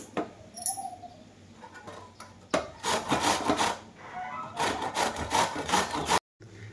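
A large pumpkin is cut and peeled by hand, the knife rasping and scraping against the tough rind in repeated close strokes, with brief pauses between bursts and no talking.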